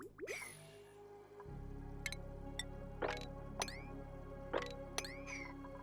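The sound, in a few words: water dripping in video game Oxygen Not Included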